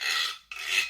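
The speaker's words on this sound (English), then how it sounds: "you could get a plastic water bottle with the ridges on the side." A homemade scraper made from a ridged plastic water bottle gives two quick back-to-back rasping strokes, dry and bright, close up, with a short gap between them.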